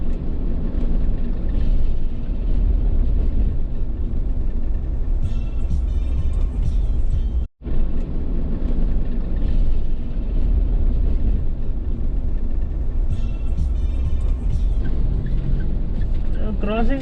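A Mahindra Thar drives through city traffic, giving a steady, loud rumble of engine and road noise that runs almost unbroken apart from one brief dropout.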